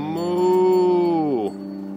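A single drawn-out moo of about one and a half seconds, voiced by a person imitating a cow in the Swiss countryside, sliding down in pitch at the end before quiet background.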